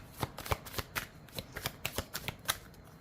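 Tarot cards are shuffled by hand close up, a quick run of soft riffling flicks and taps in an irregular rhythm, with no voices.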